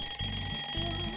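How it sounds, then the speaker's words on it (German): An alarm clock rings a second time, close and loud, with rapid repeating electronic beeps in short bursts, no voices present. "Ich wache durch meinen Wecker auf, drücke ihn aus und drehe mich dann nochmal zur Seite, bis er dann ein zweites Mal losgeht."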